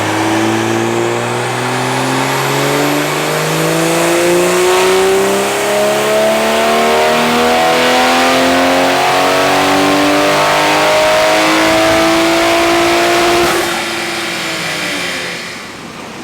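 A tuned Toyota Supra with a B58 engine revs hard on a dyno, its loud engine note climbing steadily in pitch through a long pull for about thirteen seconds before easing off, with no talk over it.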